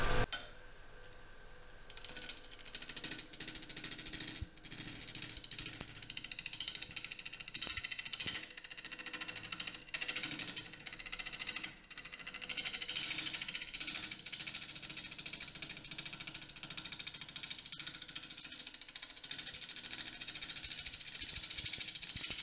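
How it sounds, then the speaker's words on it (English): A Cutsol sanding disc grinds down walnut protruding from the surface of a woodturning casting, giving a loud, steady abrasive roar with gritty rattling that runs unbroken for the whole stretch, with no voices. "Here I'm just using the Cutsol sanding disc to grind down that walnut that's sticking above the surface of the casting."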